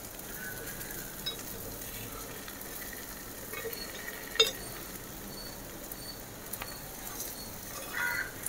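Egg kuzhi paniyaram gravy frying in a pan, a steady low sizzle with occasional soft scrapes and clinks as it is stirred and flipped, fairly quiet throughout.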